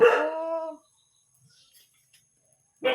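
A dog at a rural Thai home gives a short howling bark at the start, then there is near silence before another bark begins at the very end.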